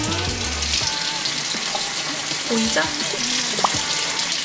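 Cut carrots are washed under running water, a steady splashing hiss with small clinks and knocks nearby, while a voice speaks briefly.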